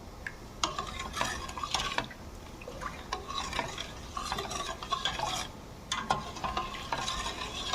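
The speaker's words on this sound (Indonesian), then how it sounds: "Kita aduk-aduk." Mung bean porridge being stirred in a pot for Pontianak-style bubur gunting, with a spoon scraping and knocking against the pot in an irregular rhythm under a soft bubbling sizzle, close by.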